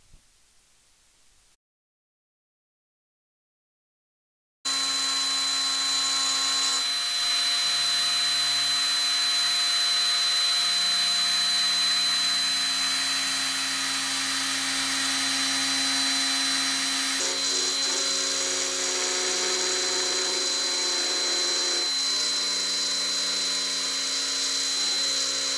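An X-Carve CNC carving machine cuts a guitar company's logo test piece, giving a loud, steady high-pitched spindle whine with broadband cutting noise. It runs continuously after a brief silence, with slight shifts in tone as the bit moves.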